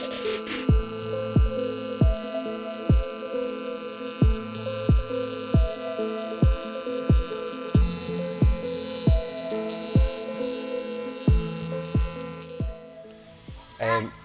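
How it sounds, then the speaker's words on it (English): Welding a cracked subframe on a Mk5 VW Golf TDI cup car in a workshop, a steady electrical buzz broken by regular rhythmic thumps about every three-quarters of a second, continuing throughout. "So we're just welding subframe because it got a crack in it"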